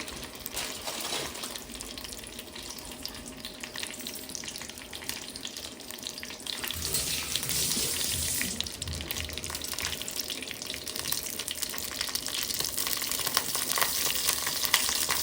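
Fennel seeds crackle and sizzle steadily in hot oil while making crab curry, a continuous close hiss growing slightly louder partway through, with no talking.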